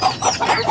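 A young home-raised rooster clucks near and loud in a short burst of three or four throaty calls at a pet shop in Tamil Nadu, with no talking.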